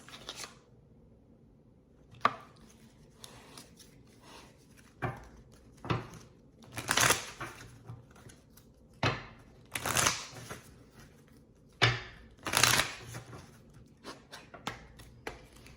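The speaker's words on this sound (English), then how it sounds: "Let's use this deck here to find some more cards." Tarot cards shuffled by hand, a run of short papery riffles and slaps in irregular bursts, close and fairly quiet, with no talking.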